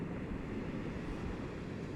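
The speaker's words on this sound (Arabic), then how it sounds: "ما بعرف إذا الصوت واضح لكم من صوت البحر ولا لا." Sea waves wash onto a beach in Gaza as a steady, broadband rush with a soft, continuous surf texture and no distinct breaks, heard alone at moderate level.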